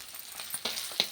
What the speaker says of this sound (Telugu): చేపల ఫ్రై ఉంది, ఆపేస్తున్నానండి